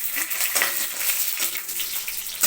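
Bay leaves frying in hot oil with mustard seeds give a steady, close crackling sizzle, with light spluttering pops and faint clinks throughout.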